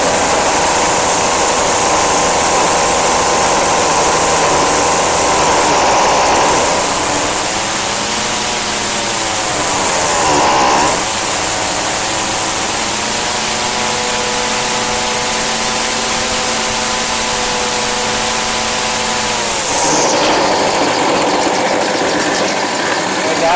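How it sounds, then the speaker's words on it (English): A Craftsman 25cc 17-inch string trimmer engine, one that had been starting and dying, buzzes steadily, then settles into a held idle with one brief dip in revs partway through, loud and close, revving back up near the end. "Now it's actually holding an idle."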